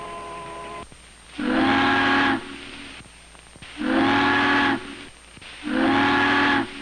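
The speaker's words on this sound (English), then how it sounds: "3 long whistles" A big ship sounds three long whistle blasts to signal the harbor bridge tender, each a loud, steady harmonic tone of about a second, with short gaps between them and a low hiss underneath.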